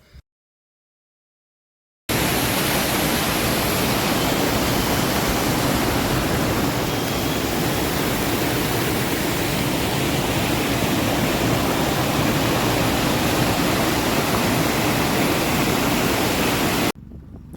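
A waterfall pours in a loud, dense, unbroken roar that starts suddenly after a short silence and holds steady at close range, with no talk.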